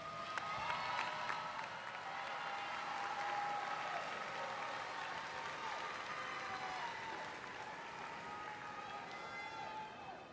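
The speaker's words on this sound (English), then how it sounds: "Please look into the stands and applaud them and give them your thanks" Commencement audience in the stands applauding graduates' families and friends, a broad, sustained wash of clapping that swells and slowly fades, heard from a distance in a large venue.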